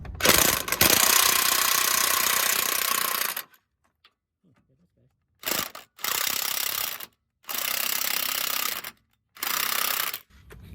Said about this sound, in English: I'm going to use a power tool to start taking out the nut and the bolt.